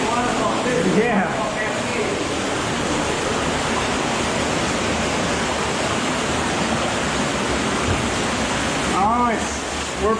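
An underground waterfall inside a cave rushes with a loud, constant roar of falling water that fills the whole stretch. Voices are briefly audible near the start and end.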